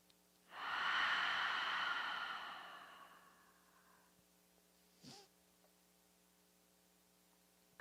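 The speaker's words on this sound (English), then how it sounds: "After a long day, it really helps to do the open mouth exhale." A single long open-mouth exhale during a yoga session, a breathy whoosh lasting a few seconds that fades out, followed by a brief soft breath and near silence with a faint electrical hum.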